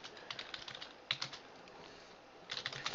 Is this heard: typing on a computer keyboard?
yes